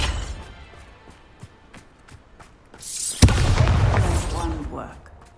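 A Bombarda spell goes off in Hogwarts Legacy on PS5: a single loud, close blast with a rumbling, crackling tail that follows quieter game ambience with faint taps.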